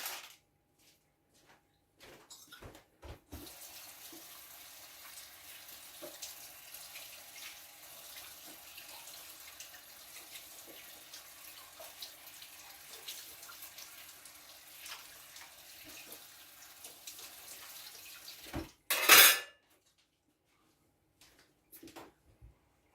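A kitchen tap runs steadily into a sink while a sticky utensil from granola-bar making is rinsed under it. The water flows continuously for about fifteen seconds before stopping, then a louder brief clatter follows.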